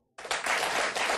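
A television studio audience bursts into applause after a brief silence, loud sustained clapping from many hands that holds steady to the end.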